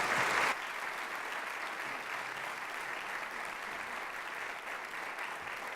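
Indoor audience applause welcoming a speaker on stage at a Butler University event: a steady, full wash of clapping from a large crowd, slightly louder for the first half second, then sustained evenly throughout.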